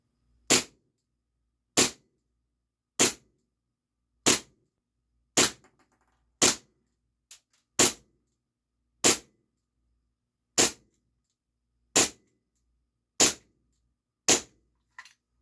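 A Steyr L9-A2 CO2 blowback airsoft pistol fires BBs in twelve evenly spaced, sharp, loud pops about a second apart. Each crack is followed by a brief mechanical clack, with near silence between shots.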